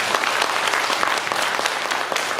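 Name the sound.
church congregation applause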